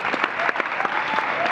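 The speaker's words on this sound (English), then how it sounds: "Please give it a round of applause." Brief burst of applause at an International Women's Day event, many hands clapping steadily at close range.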